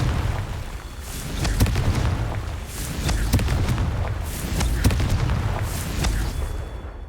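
Confringo spell blasts in Hogwarts Legacy: repeated fiery booms and bursts recurring every second or so, each with a sharp crack over a continuous rumbling low roar, loud and close.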